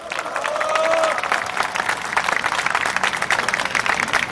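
Crowd applause at a memorial rally, a broad wash of clapping that stays steady and fairly loud throughout, with a faint tonal whistle early on.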